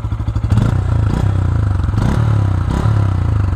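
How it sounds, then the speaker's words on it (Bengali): A Bajaj Pulsar N160 motorcycle engine runs steadily close by, a deep, even throb that rises in short revs at regular intervals, with no talking over it. "বাইকের সাউন্ডটা দেখেন"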